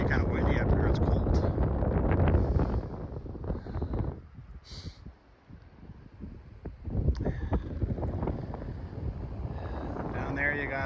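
Cold wind gusts across a high alpine section of the Rockwall trail, buffeting the microphone with heavy rumbling that eases briefly midway, while a voice talks over it.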